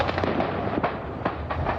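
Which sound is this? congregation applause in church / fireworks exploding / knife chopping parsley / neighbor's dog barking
fireworks exploding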